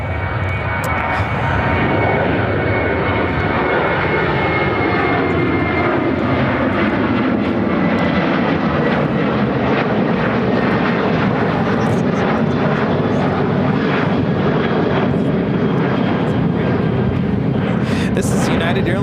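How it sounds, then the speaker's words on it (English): A United Airlines Boeing 737-700 takes off from Chicago O'Hare, its engines a loud, steady roar with a falling tone sweep as it climbs away, holding strong throughout with faint voices beneath. "This is United Airlines 2282 taking off to Traverse City on the 737-700."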